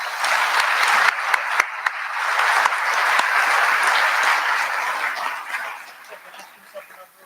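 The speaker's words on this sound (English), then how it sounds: "Let's give all the participants a big round of applause." An audience at a cyber challenge event breaks into a big round of applause, a dense, even roar of clapping that holds for several seconds before tapering off at the end.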